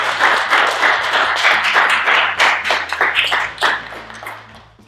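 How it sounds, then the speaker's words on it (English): A small audience at a children's art show gives a loud, close round of applause, individual hand claps audible in a brisk patter that tapers off toward the end. "Okay, let's get that around of applause."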